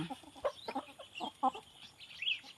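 Chickens cluck in short, close bursts, with a fighting cock and its chicks among the flock and higher chirps from the young birds.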